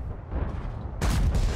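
A 130mm tank cannon in World of Tanks fires and scores a critical hit, a sudden loud broadband blast that jumps in over a low rumbling battle background and holds steady near the end.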